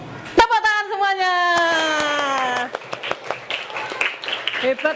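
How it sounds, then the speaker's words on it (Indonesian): An Indonesian primary class breaks into general hand clapping, a dense patter of mixed claps after a long chanted phrase, fairly close and moderately loud with voices overlapping. "Tepuk tangan semuanya."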